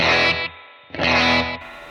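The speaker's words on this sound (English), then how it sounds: "all I want to hear is that spring reverb dwell sound, which you'll hear" Sustained distorted electric guitar chords through an AX8 with spring reverb, a splashy, effected tail ringing out in two strong bursts separated by a brief drop.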